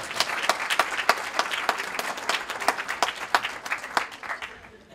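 An audience at a Christmas dinner claps in a lively burst, with sharp individual claps standing out close by. The applause keeps up steadily and then fades toward the end.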